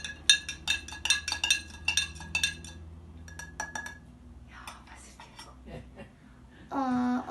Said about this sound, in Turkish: Ondan sonra biraz karıştırıyoruz.